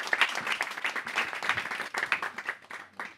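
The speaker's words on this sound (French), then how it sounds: "on les applaudit" Audience applauding at a brunch event on careers in care at a Red Cross training centre in Marseille, a lively burst of many hands clapping close by that rises and falls for a few seconds.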